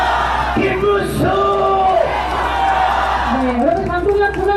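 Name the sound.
rally crowd chanting for presidential candidate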